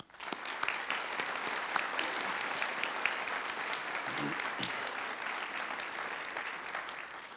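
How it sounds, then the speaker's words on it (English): A crowd claps for graduating seniors at a senior honors night, a sustained, even round of applause that keeps going steadily and fades only slightly near the end. "we would like to congratulate you and give you another round of applause"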